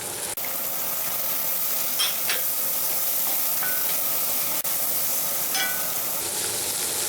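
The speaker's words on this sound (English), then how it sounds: "So we'll just let our chorizo cook." Chorizo and fish sizzle steadily while frying in a pan for a fried rice dish, a constant close crackling hiss with a few soft clicks and no talking.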